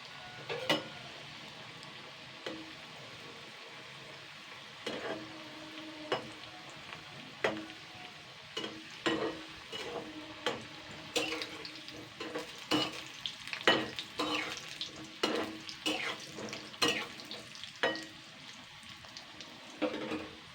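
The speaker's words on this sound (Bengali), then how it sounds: "জাস্ট 2 মিনিট করে করে একটু উল্টে পাল্টে ভেজে নেব।" Chickpea dal fritters sizzling in oil in a wok, a soft steady fry broken by repeated scraping and tapping of a spatula as they are turned, growing busier in the second half.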